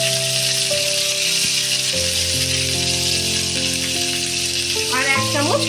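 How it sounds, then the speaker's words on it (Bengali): Whole garam masala and ginger paste fry in oil with a loud, constant sizzle, while sustained tonal background music runs underneath throughout. "এখন আমি ফোড়নের জন্য গোটা গরম মশলা তেলের মধ্যে দিয়ে দিচ্ছি।"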